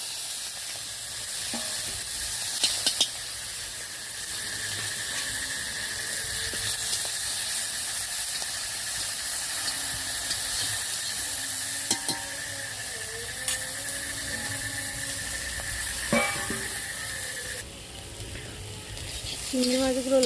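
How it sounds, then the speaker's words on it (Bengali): Prawns fry in hot oil in a wok, giving a continuous close sizzle for the whole stretch, with occasional clinks and scrapes of stirring. "চিংড়ি মাছগুলো ভেজে নেব"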